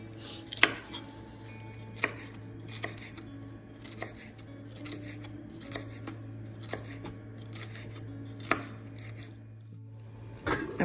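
A knife chops yellow sweet bell peppers on a cutting board in a home kitchen. Sharp, irregular taps come every second or two, close and fairly quiet, over a low steady hum with no talking.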